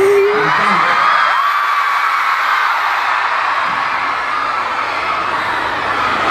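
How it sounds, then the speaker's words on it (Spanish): A large concert crowd at Movistar Arena screams and cheers continuously, loud and dense, with a few high whoops rising above the roar. "no le voy a pedir que griten menos, pero me encanta que griten"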